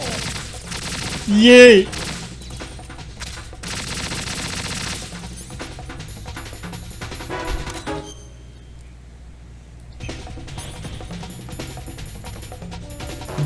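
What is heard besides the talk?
gunfire from video game Metal Gear Solid 2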